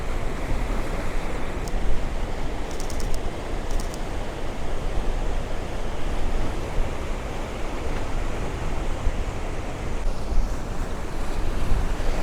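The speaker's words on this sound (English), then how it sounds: "we'll get some waves breaking around them" Ocean waves break steadily on the shore in a continuous, loud wash of surf, with wind gusting across the microphone and no voices.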